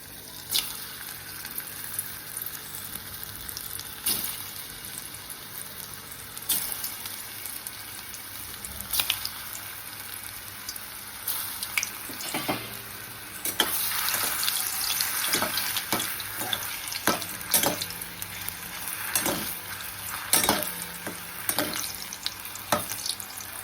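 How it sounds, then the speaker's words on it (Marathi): Balls made from leftover chapati fry in oil over low heat, a continuous sizzle broken by intermittent stirring clatter and splashy bursts that grow busier partway through. "हे सगळे गोल मी केले, त्याच परातीत केले आणि आता हे छान तळून काढणार आहे."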